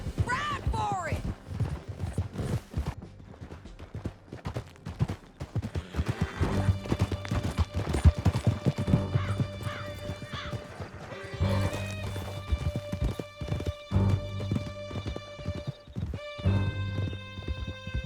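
Horses gallop in Red Dead Redemption 2 with a steady, rapid clip-clop of hooves, joined by whinnies and snorts, over a canyon ride with music swelling underneath and people talking.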